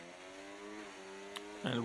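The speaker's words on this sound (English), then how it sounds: "Let's listen in with the Mercedes engine." A Mercedes racing car engine in a racing video game holds a steady high-revving tone, with harmonics that shift slightly as it changes pitch, while a commentator's voice cuts in at the end.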